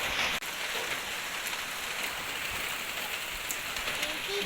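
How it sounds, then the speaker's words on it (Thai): Heavy rain pours steadily during a storm in Laos, a dense, even hiss of drops striking surfaces with no break. "บรรยากาศฝน"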